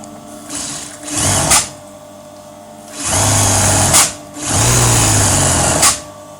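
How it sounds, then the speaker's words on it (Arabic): A sewing machine stitches in three loud, close bursts of rapid mechanical whirring, each stopping abruptly, with short pauses between runs. "دابا غادي نخيط باذن الله ونشوف واش غادي تقطع لي ولا ما غاديش تقطع لي عاود"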